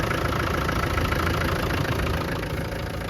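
A 1997 Land Rover Defender 90 with a 300Tdi diesel engine idles steadily at close range, a dense, even mechanical drone with no change in pitch.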